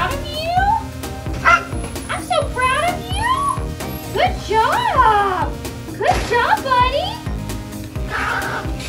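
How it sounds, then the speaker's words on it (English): A small dog yips, whines and barks in excited bursts close by during grooming, with a person's voice breaking in now and then. "This may seem a little scary that he's nipping and barking like this"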